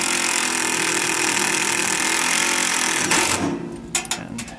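A power drill whirs loudly and steadily, driving a self-tapping screw into metal while fitting fan mounts on a Chinese mini excavator, then cuts off, followed by a few sharp clicks and knocks.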